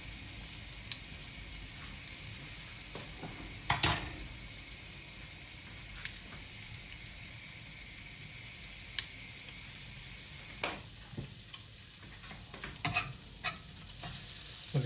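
Butter and oil sizzling in a pan for chicken wings, a soft continuous frying hiss with scattered stirring clinks and scrapes, fairly quiet and without talk.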